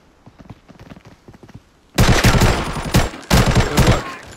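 Bursts of automatic gunfire in the tactical shooter game Arena Breakout erupt loudly after a quieter stretch of lighter rapid pops, with two dense volleys separated by a brief pause.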